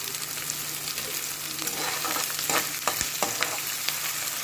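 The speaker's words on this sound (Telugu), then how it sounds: "వెల్లుల్లి, ఇది లైట్గా వేయించుకోవాలండి." Onions and garlic frying lightly in a pan with coarse salt, a dense continuous sizzle with a steady low hum beneath and several scraping stirs toward the end, close and without talk.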